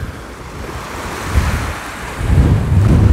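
A sea breeze rushes steadily against the microphone, rising in gusts, with a soft wash of surf beneath from the Temryuk Gulf, and no voices.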